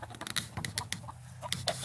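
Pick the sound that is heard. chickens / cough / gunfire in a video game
chickens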